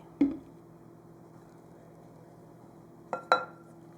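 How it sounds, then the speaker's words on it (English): A spoon stirs maple syrup into oatmeal in a bowl, giving a single clink at the start and then two quick scraping knocks near the end, with quiet in between. "Stir it up."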